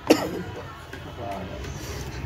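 A single short cough from a man who is unwell, heard close and alone at the start, followed by quiet room noise.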